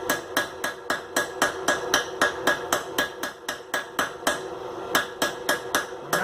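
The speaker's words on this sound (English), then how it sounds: "So this is just a random process of hitting until I think everything is smoothed out." A hammer strikes hot iron on an anvil, planishing a forged taper smooth with light blows: a rapid, steady run of about twenty ringing metallic hits, close and clear, with no talk.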